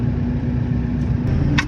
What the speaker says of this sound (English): there's the Harbour lorry